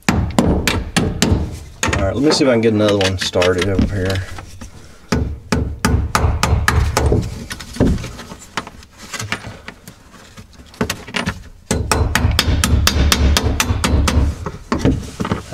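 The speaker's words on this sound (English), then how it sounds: "I'm gonna pack it with a hammer." A hammer strikes a bolt to drive it through, sharp metallic blows repeated in bursts, close and loud, with someone talking between and over the hits.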